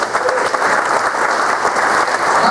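Loud, dense clapping from a church or concert audience at a gospel quartet performance, steady and full-bodied across the whole moment with no talking over it.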